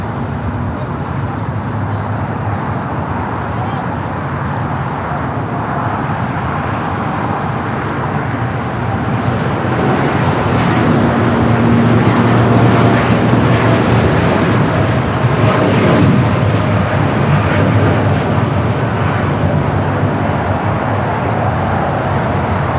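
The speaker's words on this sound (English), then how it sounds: "American Dreamliner now rolling down at 25 right." An American Airlines Dreamliner accelerates down runway 25 right at LAX, its engine roar building from a moderate rumble to a louder, fuller wash midway, mixed with nearby traffic noise and occasional voices.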